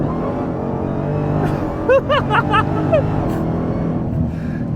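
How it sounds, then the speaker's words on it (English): A Dodge Demon 170 with a supercharged Hemi V8 revs hard up close in a loud, continuous roar, with brief high whistling squeals rising over the throaty drone midway through. "Oh, the noises are terrific. Supercharger 1, Hemi V8 throatiness."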